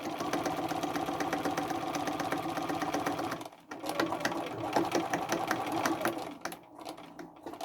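Sewing machine stitching the seam of a red velvet tote bag, a fast, even mechanical rattle running close and continuous, pausing briefly midway before resuming in shorter bursts.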